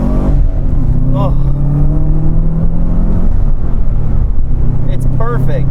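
A 2005 Subaru Legacy GT with a manual gearbox pulls steadily under acceleration, its engine droning loudly inside the cabin while people talk over it.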